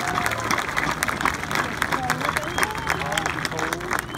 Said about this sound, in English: let's have a round of applause for all the coaches and the adult volunteers